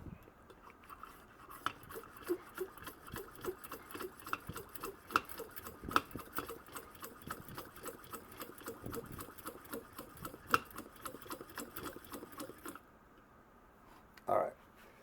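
A Rogers M-1950 military stove being pumped up to pressure: a fast, even run of dry clicking pump strokes for about twelve seconds, then a pause and one brief final sound.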